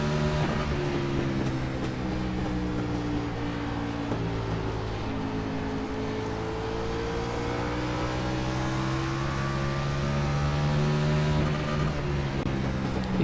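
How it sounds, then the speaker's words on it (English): A NASCAR Xfinity race car engine in iRacing drones steadily at high revs, holding a buzzing, sustained tone with slight pitch shifts as it bounces against the rev limiter, loud and continuous throughout. "Hit the rev limiter, I think that's fine."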